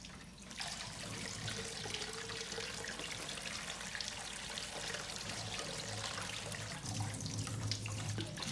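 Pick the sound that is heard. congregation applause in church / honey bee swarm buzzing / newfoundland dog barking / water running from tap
water running from tap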